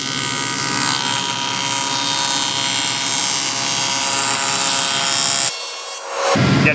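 A table saw makes a slow cut through wood for a step stool, a loud steady whirring drone that stops abruptly near the end before a brief burst of noise.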